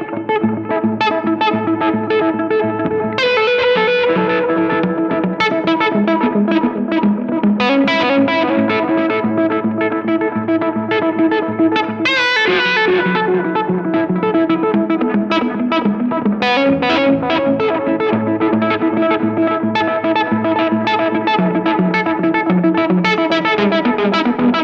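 Electric guitar played through a Benson delay pedal set to dotted-eighth repeats, with distorted chords and notes trailing off in rhythmic echoes and a chorus-like shimmer, loud and continuous throughout.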